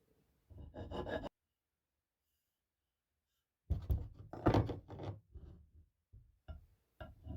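Close rasping strokes of a hand file rounding the corners of a wooden handle in a small mountain woodshop, one short burst, a long silence, then a longer run of uneven strokes.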